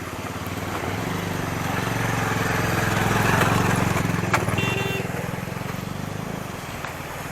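A KTM Duke motorcycle crosses a water crossing in Barot valley, its engine droning steadily up and away with rushing, splashing noise mixed in, moderately loud and fading slightly at the end.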